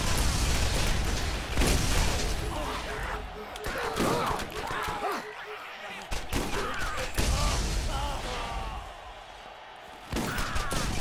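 Pistol fire in the Borderlands video game, Underdome DLC, sharp repeated shots in irregular bursts amid clattering game effects, with a voice talking over it.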